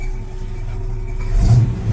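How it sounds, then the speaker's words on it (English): A truck's V8 engine runs steadily at a low rumble, then revs up briefly near the end with a louder, deeper surge before easing back. "rev it up a little bit, I guess."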